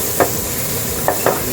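Onions fry with added salt in a pan for a fish curry, a steady sizzle broken by a few short scraping stirs of a spoon, close and fairly loud with no voices.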